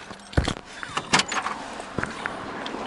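A door being closed: a couple of sharp thuds and rattles early on, followed by softer scattered knocks and clicks, with some metallic jangling in a quiet outdoor setting.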